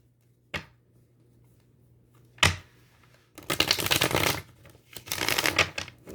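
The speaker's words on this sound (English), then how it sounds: "I hope the card shuffling, I know I'm doing it kind of aggressively." Tarot cards shuffled aggressively in loud, riffling bursts: a couple of sharp snaps early, then two long rapid fluttering runs, close and dry with no voice.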